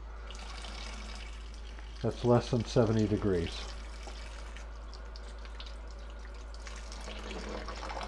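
Running tap water pours over frozen shrimp in a bowl to defrost them, a steady faucet stream continuing throughout while a person talks briefly partway through.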